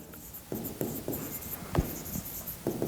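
Chalk or marker writing out a physics solution on a board, a series of short scratchy strokes in uneven rhythm, close and fairly clear with no talking over it.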